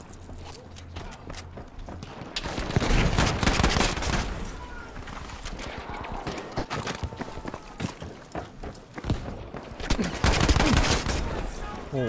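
Tommy gun fire in a shooter video game, rapid bursts of automatic shots crackling densely in the foreground, coming in waves with brief lulls, with game effects and some voice mixed in.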